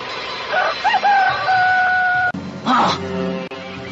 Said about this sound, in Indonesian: Suara ayam berkokok.